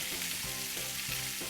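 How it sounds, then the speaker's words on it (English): Zucchini and onions fry on a Steelmade USA flat top griddle beside cooking bacon in oil, giving a steady, loud hiss with a few soft scrapes and bumps of turning food at intervals. "we will put down the zucchini and onions"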